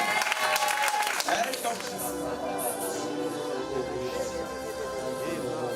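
A church congregation applauds to acclaim the Lord at a prayer service, steady clapping and crowd noise sustained throughout under a reverberant hall ambience.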